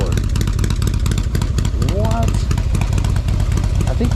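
A Harley CVO 110ci fitted with S&S cams idles with a loping, uneven rumble, loud and close, while people talk over it.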